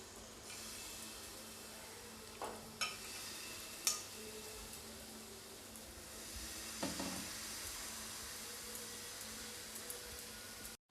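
A semolina and vegetable uttapam cooks in a pan with a steady sizzle and hiss, broken by a few clinks and scraping strokes of a utensil, close and moderately quiet with no talk.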